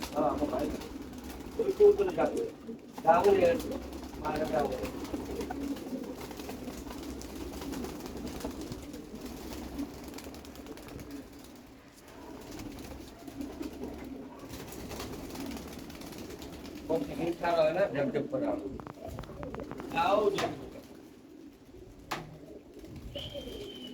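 Pigeons coo steadily in a loft of military-type pigeons, a low continuous murmur of birds with occasional wing flutters, while someone speaks over them throughout.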